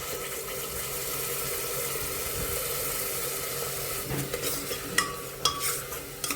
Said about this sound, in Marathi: ही टोमॅटोची जी प्युरी आहे ती आपल्याला तेलामध्ये चांगली परतून घ्यायची